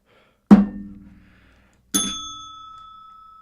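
A bell rung during a live stream gives two sharp strikes about a second and a half apart, each ringing out and slowly fading, the second with a brighter, longer-sustained tone.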